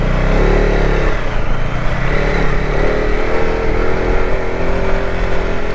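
A motorcycle labours up a steep hill road near Mussoorie, its engine droning loud and close in a steady strained rev with wind rumble, no talking.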